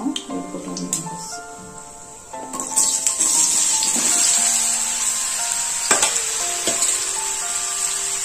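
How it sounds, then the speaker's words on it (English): Spices sizzle in hot oil for a mango jaggery sweet pickle, a bright continuous hiss broken by stirring clinks and scrapes, with a faint voice early on. "So now sizzling is ready. It's sizzled."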